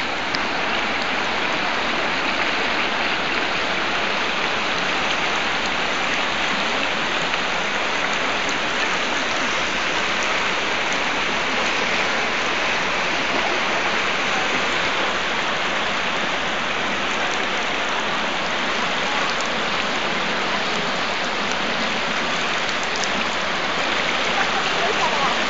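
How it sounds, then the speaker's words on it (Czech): Heavy rain pours down during a flood in Poustevna as a dense, continuous hiss of rain hitting surfaces and rushing water that stays loud and steady throughout, with occasional voices faintly under it. "Když čím dál tím víc prší."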